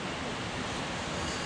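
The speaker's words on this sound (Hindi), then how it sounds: "हाँ अरे ये देख पानी" Rushing river water at the Devprayag confluence of the muddy Bhagirathi and Alaknanda, a dense, steady roar of flowing current, loud and continuous with no voices over it.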